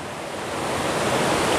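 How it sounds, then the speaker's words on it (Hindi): Rushing water of a waterfall flowing out of the mountains in a garden in the Soon Valley, a steady broadband roar that swells slightly louder over a short stretch, with no voices. "ये एक आबशार है। ये पहाड़ों के अंदर से पानी बह रहा है।"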